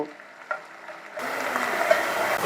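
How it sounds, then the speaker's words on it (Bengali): Chopped onions, about two hundred grams, hit hot oil in a pan and start frying, a sudden loud sizzle after a quieter moment that keeps crackling steadily. "আমি একে খুব ভালো করে প্রায় দশ মিনিট ভাজা করব"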